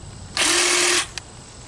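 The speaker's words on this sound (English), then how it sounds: "cordless hedge clippers." A KIMO 20-volt lithium battery cordless hedge trimmer gives one short, close buzzing burst of under a second, followed by a faint click.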